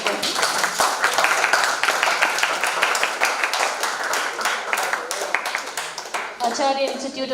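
An audience at an academic honours ceremony at a graduate institute applauds the guests. Dense, steady clapping goes on for several seconds, and a voice begins speaking near the end.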